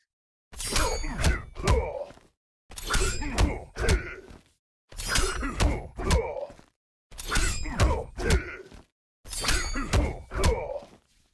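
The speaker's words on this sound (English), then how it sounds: "notice the thump sound along with a completely different visual effect of Garrus blocking" Blocking thumps in the Mortal Kombat 11 fighting game come in five evenly spaced bursts, each holding two or three heavy impacts with crunchy game effects, separated by short silences.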